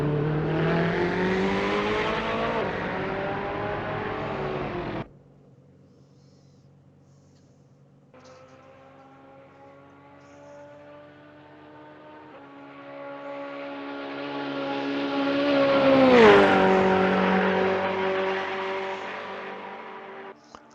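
A Ferrari race car engine drones at a distance in a Spa racing game, then swells louder as it revs and passes close by before fading slightly.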